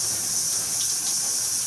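Shower water runs in a steady, loud rushing hiss, unbroken and close, with no voices over it.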